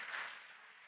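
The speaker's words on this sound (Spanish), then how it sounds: "Voy a pedirte que le des un fuerte aplauso al Señor" Congregation applause for the Lord in a church service, a dense, steady wash of many hands clapping at once, moderately loud and sustained without any voices on top.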